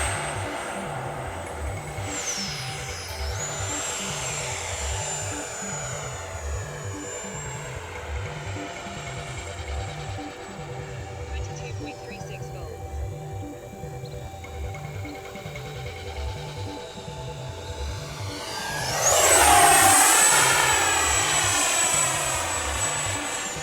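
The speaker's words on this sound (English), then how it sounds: "let's try the Rafale on a quick touch and go after a few adjustments" An FMS Rafale 80mm EDF RC jet flies a touch and go. Its ducted fan gives a continuous high whine that shifts pitch as it passes, then swells louder and rises near the end as the throttle comes up.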